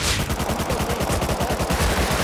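Rapid automatic gunfire from the console version of the survival video game Rust, a loud, dense burst of repeated shots running continuously through the moment with no talk over it.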